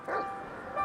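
Dog barking in the video game GTA 5 as a pitbull brawls, two short bursts near the start and end with game sounds and a voice running underneath.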